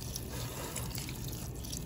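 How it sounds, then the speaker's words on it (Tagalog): Water pours into a cooking pot for boiling crab, a steady close splashing and trickling stream with no talk. "lagyan natin ng konting tubig para sa ating pagpapalambot at pagpapakulo"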